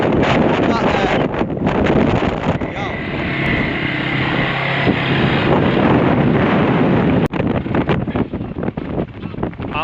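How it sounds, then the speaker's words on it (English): Strong wind buffets the microphone outdoors on a hilly off-road riding course, a steady loud roar with gusty rumbles running the whole time, while a person talks intermittently through it. "it might be windy today"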